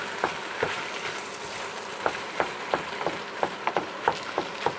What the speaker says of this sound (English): a tiny pinch of ground nutmeg, just a pinch, you don't need too much of this, and I'm going to stir that in